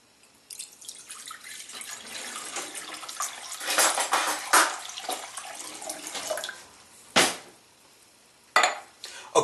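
Water is poured into a cooking pot for au jus, a splashing, gurgling stream that rises and falls, then breaks into a few separate bursts of pouring near the end.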